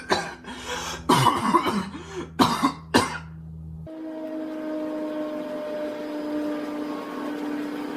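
Several loud, close coughs and throat-clearing sounds come in quick bursts, then give way to a steady low mechanical rumble.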